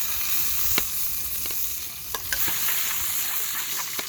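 Garlic and onion frying in oil for Filipino sweet and sour fish escabeche, a steady close sizzle with occasional clicks of stirring, no voices.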